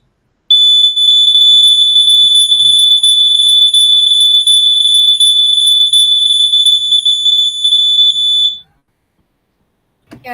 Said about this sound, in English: there's an alarm also that beeps along with it